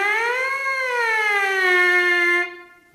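A beginner brass player's siren glide on a mouthpiece, a single buzzy sustained tone sliding up then slowly down in pitch for about two and a half seconds before stopping, loud and close.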